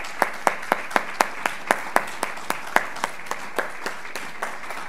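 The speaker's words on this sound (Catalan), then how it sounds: "Un bon aplaudiment." A single pair of hands clapping close by in a steady, even rhythm, about four claps per second, at a lecture on the history of Barcelona's Sant Pau hospital, with a soft room murmur beneath.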